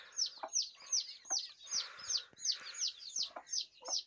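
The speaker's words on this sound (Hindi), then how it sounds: "आप देख रहे हैं असील मुर्गी के असील बच्चे" Aseel chicks peep continuously in quick, high-pitched descending chirps, repeated rapidly and close by with no talking.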